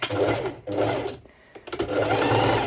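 A sewing machine stitches stretch net fabric for a sporty top, running in close, loud bursts with a short pause between runs.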